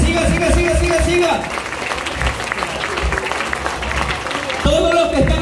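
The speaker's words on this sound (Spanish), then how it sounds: "fuerte, fuerte, fuerte el aplauso, que se escuche largo" Long, sustained applause from a crowd at a quinceañera party, dense clapping with voices over it and a celebratory music-like tone rising at start and end.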